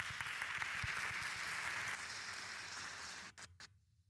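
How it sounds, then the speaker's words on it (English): Faint, distant applause from a conference audience in a church hall as a speaker is welcomed, a steady soft patter that cuts off abruptly near the end, with a few last claps before silence. "A warm applause for you, Matthias."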